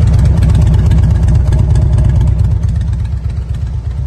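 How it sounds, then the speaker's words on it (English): A 2007 Harley-Davidson FLHT Electra Glide motorcycle idles with a steady, loud, low exhaust rumble and a pulsing beat, heard close up with no talking. "Lovely exhaust."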